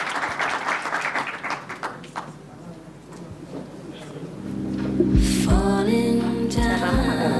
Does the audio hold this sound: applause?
yes